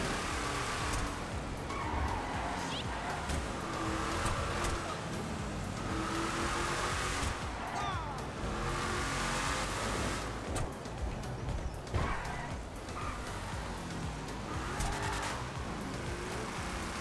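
A powerful car in the Grand Theft Auto V video game, modded for real-life roleplay, roars steadily under hard acceleration for the whole stretch, its engine note dense and continuous with no talk over it.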